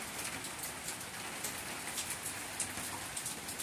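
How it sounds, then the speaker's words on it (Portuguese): Heavy rain pours steadily onto succulent plants outdoors on a rainy Saturday, a dense continuous hiss close by, with faint bird cooing in the background. "Tá chovendo, até que agora não tá muito, mas passou a noite inteira chovendo, bastante grossa a chuva, e elas estão ali todas tomando chuva."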